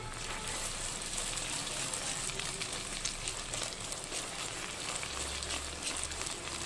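Fish curry (chepala pulusu) simmering in a pan that is held with a cloth and swirled to mix, giving a steady, close bubbling sizzle with a low rumble and no voices.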